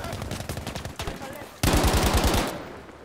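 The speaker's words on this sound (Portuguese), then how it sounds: "Tomei tiro não sei da onde" Rapid automatic gunfire rattles through a Battlefield V match, one sustained burst followed by a louder, denser burst, close and harsh, with brief game noise around it.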